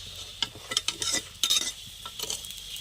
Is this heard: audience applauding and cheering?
no